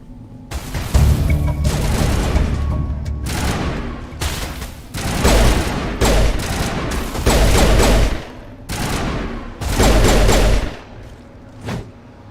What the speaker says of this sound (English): Did I just throw a grenade?